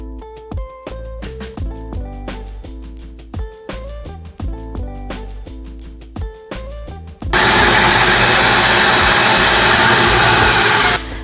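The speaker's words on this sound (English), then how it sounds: "so we're just going to cut them out on the bandsaw" After a series of short tonal knocks, a bandsaw roars in loudly and steadily, cutting out wooden travel trailer shapes from two layers of board screwed together, a dense continuous blade hiss up close.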